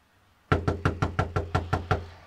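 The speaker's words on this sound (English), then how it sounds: "I guess you don't hear me at the door" Eight sharp knuckle raps on a door come close and loud in a fast, even series after a short quiet lead-in.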